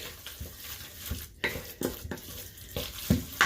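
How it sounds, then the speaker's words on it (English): Shrimp siu mai filling of finely cut shrimp being stirred and mixed in a bowl, giving irregular wet squelching and scraping strokes at close range, with soft knocks against the bowl and no talk. "And all we have to do now is mix this filling all together."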